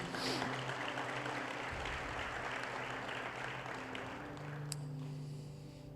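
Church congregation clapping in praise during a service, a broad steady wash of applause at moderate distance, tapering slightly toward the end with a brief sharp tap near the close.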